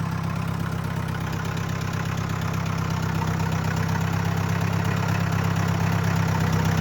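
A tractor engine drones steadily and loudly throughout at a constant pace, low and rumbling, with no voices, as the tractor drives through a wet, muddy field in Punjab.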